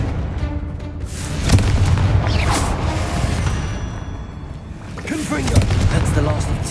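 Explosive Confringo spell blasts in a Harry Potter video game, clearing spider sacks: a few booming bursts with crackling tails, spaced a few seconds apart, set in busy game sound.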